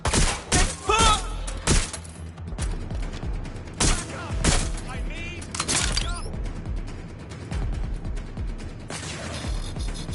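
Incoming gunfire in Watch Dogs: Legion, a flurry of sharp cracking shots and impacts up close, loudest in the opening seconds and then continuing more sparsely over a busy background, with shouting mixed in.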